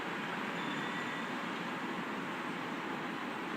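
Trains rolling through a city transit network in the game Cities in Motion 2, a steady broadband rumble and rail hiss holding even and unbroken throughout, with no talking.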